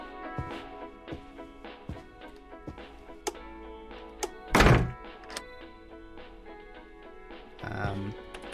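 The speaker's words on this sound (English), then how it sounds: "Why is the door locked?" In the video game First Winter, a locked door is tried, giving scattered light clicks and knocks, then one heavy rattling thunk of the door shaking in its frame, set against a steady low ambient game tone.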